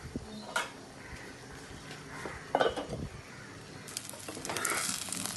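A vegetable masala omelette cooks in oil in a covered pan on leftover roti, with a faint low sizzle under scattered light clinks and clatters of pan and utensils.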